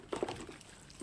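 Hot soapy water rushes into a bird feeder container being cleaned, a short close splashing pour with a couple of stronger gushes at the start before it settles into a softer trickle.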